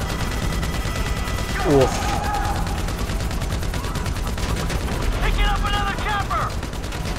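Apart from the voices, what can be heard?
gunfire in video game Grand Theft Auto V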